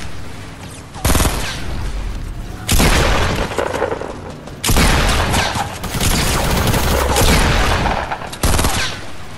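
Loud, sustained gunfire and booming blasts from the video game Fortnite come in several long dense bursts, with brief lulls between them.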